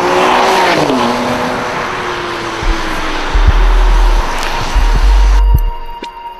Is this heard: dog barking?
no